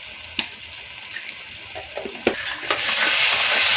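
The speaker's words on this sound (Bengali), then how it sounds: "মশলাটাকে সুন্দর করে কষিয়ে নেওয়া হচ্ছে" Spice masala with coriander powder and turmeric is sautéed in a pan for biryani: scattered spoon scrapes and taps over a low sizzle, which thickens into a loud, steady fry in the last second.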